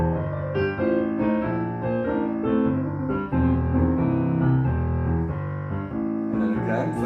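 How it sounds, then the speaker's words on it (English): A blues piano right-hand riff plays over a 12-bar blues, giving continuous rolling chords and repeated melodic figures at a steady tempo, with no pauses. "I'm going to play the right hand riff twice throughout"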